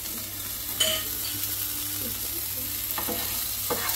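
Spice powders and chopped coriander leaves are stirred and mixed in a hot pan, giving a steady low sizzle. Occasional clicks and scrapes of a spoon against the pan punctuate it, with no talking.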